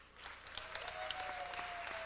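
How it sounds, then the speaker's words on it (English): Faint, distant audience applause at a gay pageant, scattered claps with a thin tonal whine running beneath them, short and low in level. "ladies and gentlemen, a round of applause"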